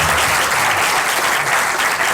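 Loud, dense applause from a colloquium audience greets speaker Hera Pinto, a continuous even wash of clapping from start to finish.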